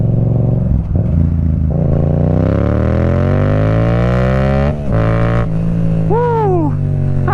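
A Yamaha motorcycle with a 689cc CP2 parallel-twin engine revs hard and climbs steadily, loud and close, then shifts and surges again with a rising whine near the end.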